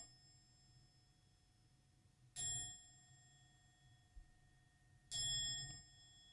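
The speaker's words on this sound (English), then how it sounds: "So I ring my bell." A bell is struck twice, each a bright ringing tone that lingers and fades, separated by quiet with faint background hum.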